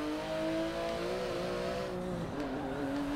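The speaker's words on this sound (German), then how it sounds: "Da zieht der Porsche richtig geil an." A Porsche in the racing game Forza Motorsport 7 accelerates hard, its engine note rising steadily in continuous harmonic tones over about three seconds, then dipping briefly as it shifts before climbing again, loud and close.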